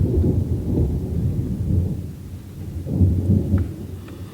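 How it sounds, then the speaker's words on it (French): Low thunder rolls and rumbles through steady rain, swelling twice in long, heavy waves with no voices. "Bah là on entend un peu l'orage là"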